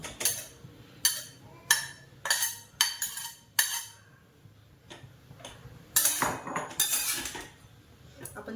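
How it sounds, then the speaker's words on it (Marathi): Grated fresh coconut sautéed in ghee for coconut barfi, a spoon scraping and clinking against the pan in short bursts roughly every second, close and fairly crisp, then a denser run of stirring strokes near the end. "चांगलं परतून घेणार आहे आता हे तुपामध्ये थोडंसं ड्राय होईपर्यंत"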